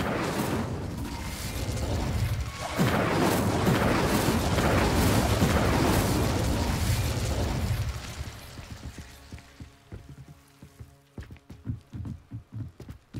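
A burst of the Incendio fire spell in Hogwarts Legacy, a loud whooshing, roaring blast that swells and rumbles for several seconds, then fades into sparse crackles and scattered clicks.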